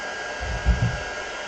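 A hair dryer blows a steady, close, loud whoosh over glued notebook pages, with a slight surge in airflow partway through.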